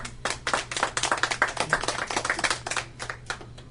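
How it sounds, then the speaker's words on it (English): A small audience gives Brian a round of applause, distinct close claps in a quick uneven patter that thins out toward the end, fairly quiet overall. "let's give this guy a round of applause"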